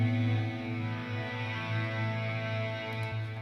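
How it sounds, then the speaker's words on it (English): Distorted guitar from the Heavyocity scoring guitars sample library rings out as a thick, sustained, buzzing chord. It stays fairly loud and steady for a few seconds with slight pulsing movement. "Then I have from Heavyocity the scoring guitars."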